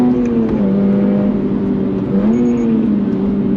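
Revving under throttle, the 2024 Subaru BRZ tS 2.4-liter flat-four rises and dips in pitch, loud and close from the cabin, with a brief drop around the middle before climbing again.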